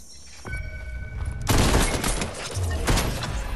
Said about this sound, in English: Someone else is shooting, but maybe badly, so I don't know where they're going.